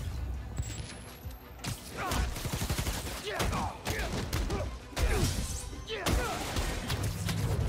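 Gunfire in the superhero action game Marvel's Spider-Man: Miles Morales, bursts of shots and crashing impacts scattered through a chaotic fight scene, mixed with game sound effects and voices talking.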